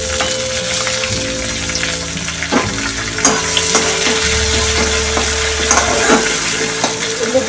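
Grated ginger, green chilli and tomato fry in a pan for a vegetarian navratan korma, a loud dense sizzle with steady spatula stirring and occasional knocks, close and continuous, with no talking.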